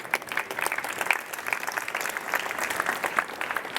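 A seminar audience breaks into sustained applause, dense overlapping claps at moderate distance holding steady for several seconds with no speech over it.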